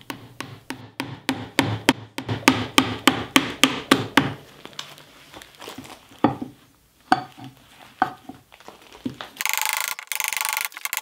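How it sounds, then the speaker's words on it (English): Flat chisel turned over and used like a gouge on a wooden bowl, giving a run of sharp, evenly spaced knocks that slow and thin out, followed by a few scattered taps and a brief burst of brighter noise near the end. "take a large flat chisel and turn the blade over and use it like a gouge"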